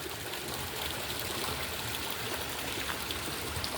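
River water flows through a newly opened channel into a fish pond stocked with red tilapia fry, making a steady, continuous rushing and gurgling that stays even throughout, with no voices.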